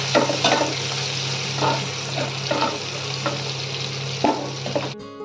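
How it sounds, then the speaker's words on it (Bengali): Eggplant pieces fry in a pan with garlic and dried chili in a constant close sizzle, with a few louder stirring scrapes, before the sound cuts off abruptly near the end. "রসুন আর শুকনো লঙ্কাটা ভেজে নিয়ে আমি এখানে বেগুনগুলো ছেড়ে দিলাম"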